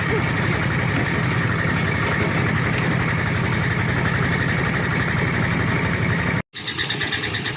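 A farm tractor engine runs steadily nearby, a loud, even, low chugging idle that continues throughout, briefly cutting out near the end before resuming.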